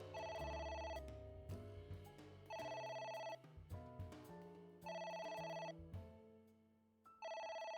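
A telephone rings repeatedly in the video game AI: The Somnium Files, electronic trill bursts in a steady on-off pattern over background game music.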